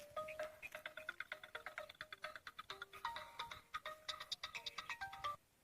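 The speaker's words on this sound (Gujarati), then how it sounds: "તાર ફોન આવ્યો કોકનો ઉપાડો" A phone ringtone plays a bright, repeating electronic melody of quick chiming notes, steady and fairly soft, for several seconds before stopping.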